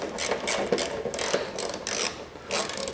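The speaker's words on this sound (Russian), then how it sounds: "Откручиваю два болта крепления" A ratchet unscrews the mounting bolts of the wiper motor on a 1982 Land Rover Series III. Close, rhythmic bursts of fast clicking come in short runs with brief pauses between strokes.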